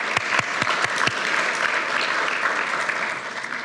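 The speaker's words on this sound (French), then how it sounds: "Est-ce qu'on peut les applaudir?" Church congregation applauding during a service, opening with a few distinct sharp claps near by before swelling into a dense, steady round of applause that carries on without speech.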